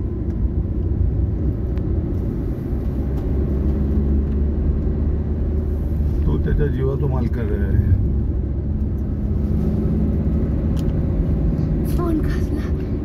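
Steady low rumble of a car driving on a summer road trip to Tapola, continuous road and engine noise throughout with people talking inside the cabin over it.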